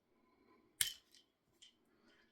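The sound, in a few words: wire cutting tool trimming excess picture-hanging wire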